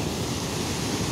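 Sea waves washing on Karon beach on the Andaman Sea in Phuket, a steady broadband surf rush with wind, continuous and fairly loud.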